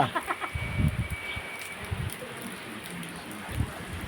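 Steady rain patters down as a constant hiss, with some low thumps and brief bits of background voices mixed in.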